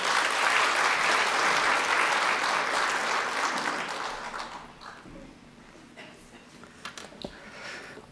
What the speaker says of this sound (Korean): 박수로 모시도록 하겠습니다.